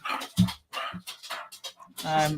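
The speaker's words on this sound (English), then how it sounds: "she's going to bark. The dog's going to start barking." A dog barks and whimpers indoors in short, close bursts, mixed in with people talking nearby.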